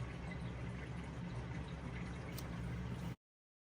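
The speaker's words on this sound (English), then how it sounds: "if y'all hear water, that's my white noise box" Steady rushing water sound from a white noise machine in a quiet room, a constant soft hiss like falling rain that runs evenly, alone, then cuts off abruptly.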